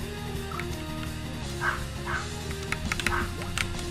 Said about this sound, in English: Listening to my dog bark is actually very therapeutic.